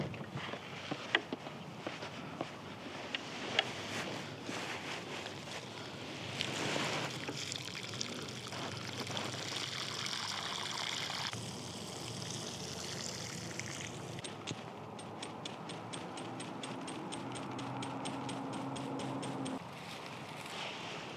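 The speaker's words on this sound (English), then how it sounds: "I'm gonna go give these some water." Water pours and trickles steadily onto boxwood topiary plants in a home garden, a continuous splashing wash with brief shifts in intensity and occasional footsteps, no talking.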